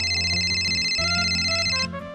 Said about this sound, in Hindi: मेरा फोन कहाँ बज रहा है?